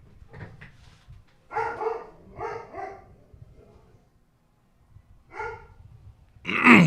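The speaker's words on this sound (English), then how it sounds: "One dog barks and then the other one barks." Two dogs barking in turn at home, short bursts of a few loud barks each with quiet gaps between them, ending in a sharper, louder bark up close.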